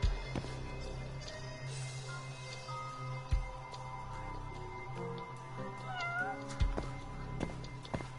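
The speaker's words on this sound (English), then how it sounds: "Where is this cat?" A cat meows several times in a row, clear drawn-out cries with wavering pitch, some rising into a caterwaul, heard near the microphone over low background rumble and scattered thumps.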